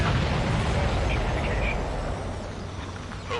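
Heavy explosions rumble through an aerial battle in the video game Ace Combat 7, a dense, loud, continuous roar of blasts and noise that eases slightly toward the end.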